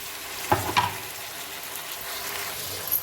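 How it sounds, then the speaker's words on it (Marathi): Tomatoes drop into hot oil already sizzling with green chili, mustard seeds and cumin, giving a sudden splashy burst and then a steady frying hiss close by. "ह्याच्यात टाकली हिरवी मिरची मोहरी आणि जिरी आता टाकते टमाटर"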